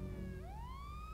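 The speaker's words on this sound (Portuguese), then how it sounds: "Pode ligar a sirene" A police car siren in the GTA roleplay video game starts up as a faint rising wail, short and quiet over a low background hum.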